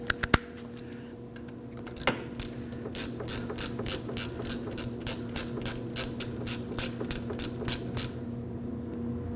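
A ratchet snugs a banjo bolt on the rear brake caliper of a 2011-2012 Kia Optima, giving a quick run of evenly spaced, crisp clicks up close, with a few sharp metallic knocks before the ratcheting starts.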